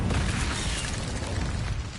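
An Incendio fire spell cast in the video game Hogwarts Legacy gives a loud, steady roaring whoosh with rumbling low-end bursts that holds for about two seconds.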